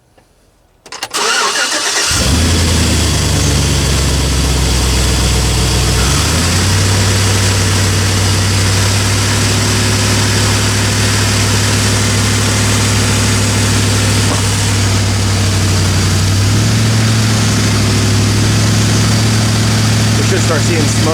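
A Chevy engine with Seafoam added cranks and catches, then holds a loud, steady idle at about 1200 to 1500 RPM, its low rumble close and unbroken with slight shifts in pitch.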